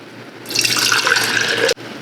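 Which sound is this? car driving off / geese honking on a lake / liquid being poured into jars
liquid being poured into jars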